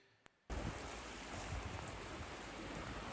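Floodwater rushes down a river in Serbia, a dense, loud roar that starts abruptly after a brief quiet moment and continues steadily to the end.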